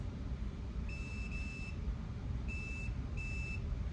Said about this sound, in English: So this is for the noise, for the beep.